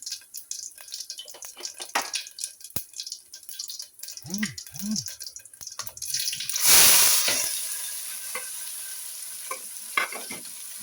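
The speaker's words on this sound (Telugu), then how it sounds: "ఇప్పుడు ఆనియన్స్ వేసుకుందామండి" Onions dropped into hot oil with mustard and cumin seeds for a brinjal, drumstick and potato curry, starting with scattered clinks and taps, then a loud burst of sizzling that fades as they are stirred.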